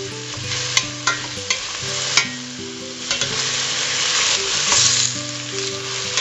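Onions sweat in a pan for ratatouille with a loud, steady sizzle, and a utensil scrapes and knocks against the pan in irregular strokes as they are stirred.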